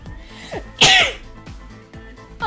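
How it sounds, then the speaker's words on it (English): One sharp human sneeze, close and loud, preceded by a few quick sharp inhales and followed by quieter breathing sounds. "I'm literally gonna sneeze."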